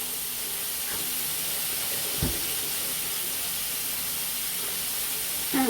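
Black cumin seeds sizzling in hot oil for tel potol, a steady bright hiss of frying with a few soft clicks and spatters.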